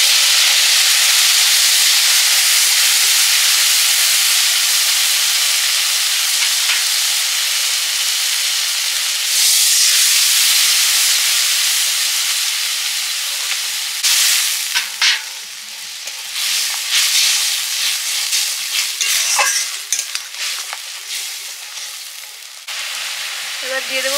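A spice paste of mustard, turmeric and salt frying in a pan, loud steady sizzling and hissing throughout, with stirring scrapes breaking it up in the later part.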